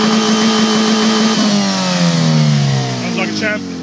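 Car engine revved hard to the rev limiter, the steady loud drone sliding down in pitch, with a voice speaking over the noise.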